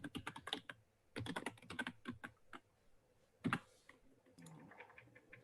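A password being typed on a computer keyboard while creating an account, with bursts of quick close key clicks separated by short pauses and a final scattered few taps.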